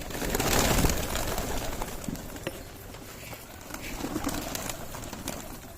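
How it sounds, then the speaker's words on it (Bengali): High flyer pigeons at a home loft coo softly amid fluttering and shuffling, with a continuous busy bird chatter close by. "পায়রাগুলো খাওয়াতে জন্য রেডি হয়ে আছে"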